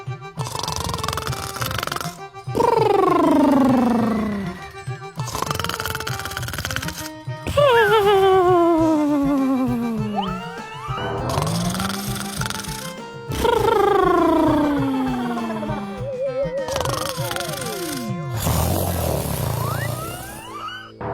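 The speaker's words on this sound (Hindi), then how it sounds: "गेंदा सेठ खर्राटे मारकर सो रहा था।" A cartoon man snores loudly in his sleep, each snore a long, wavering rasp that drops in pitch, repeating in a slow, regular cycle with short silent pauses between the breaths.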